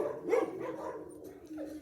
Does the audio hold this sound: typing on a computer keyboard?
no